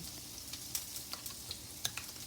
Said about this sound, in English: And this is corn in the skillet.